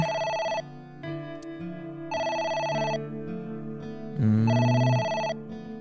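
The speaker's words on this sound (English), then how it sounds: "It's the phone." A telephone rings inside the video game AI: The Somnium Files, a bright electronic ringtone repeating in clear bursts over a low backing music bed, with no voices.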